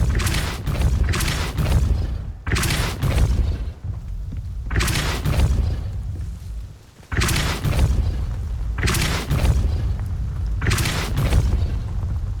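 Heavy Depulso spell blasts in Hogwarts Legacy, several loud booming bursts with deep low rumble, close and forceful, separated by short dips amid continuous game ambience.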